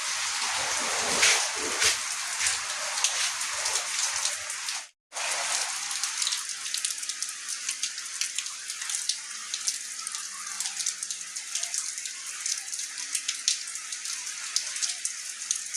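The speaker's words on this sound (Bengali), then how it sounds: "বাইরে প্রচন্ড বৃষ্টি, কিন্তু করার কিছু নেই, যেতে হবে।" Heavy, continuous rain pours outside on a morning before school, a dense, even hiss of drops that never lets up and cuts out only for a brief moment partway through. No one speaks.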